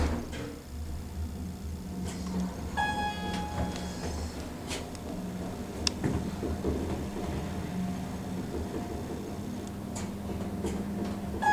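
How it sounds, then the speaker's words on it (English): A Westinghouse hydraulic elevator motor runs at Westport Plaza in St. Louis, giving a steady low drone and hum with faint ticking and clicks, fairly quiet and continuous throughout. "Let's listen to the motor."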